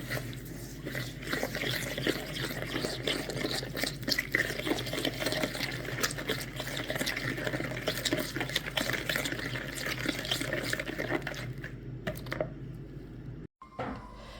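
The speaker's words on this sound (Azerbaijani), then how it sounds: "1 ədəd yumurta, 70 ml duru yağ əlavə edib qarışdırırıq" Cookie dough of sugar, egg and oil is stirred in a bowl, giving a continuous wet, sloshing, slurping sound close up, steady and moderately loud until a brief pause near the end.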